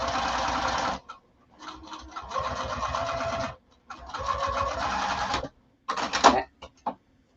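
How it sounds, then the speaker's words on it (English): Sewing machine stitching across a 1/4 inch seam allowance at stitch length 3, running in several close bursts of steady whirring with short pauses between runs. "stitch across at a 1/4 inch seam allowance"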